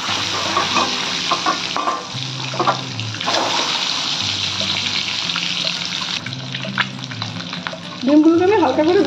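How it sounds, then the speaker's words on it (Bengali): Lightly salted, turmeric-coated eggs fry in oil for an egg curry, giving a steady close sizzle with repeated stirring scrapes and a brief rising squeak near the end. "ডিমগুলোকে আমি হালকা করে ভেজে নিয়েছি।"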